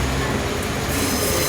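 Train rumbling through Sheffield station, a continuous loud roar of wheels and engine with steady high-pitched rail squeal, no talk.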